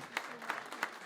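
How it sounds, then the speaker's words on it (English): Faint, scattered clapping from an audience at a town hall meeting, with a few sparse hand claps standing out against quiet room tone. "let's give these folks a round of applause."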